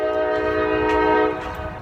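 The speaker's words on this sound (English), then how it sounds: "I have to deal with the damn loud, noisy ass train." A loud train horn blares as a train passes close by, sustained and steady for most of the time before easing off slightly at the end, with no talking.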